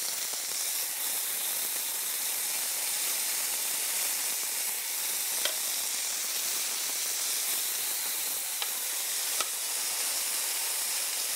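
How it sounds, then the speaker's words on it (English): Steady, dense sizzling of eggplant frying in hot oil, a constant crackling hiss with occasional small pops, close and fairly quiet. "I'm sure you can hear the sizzling sound."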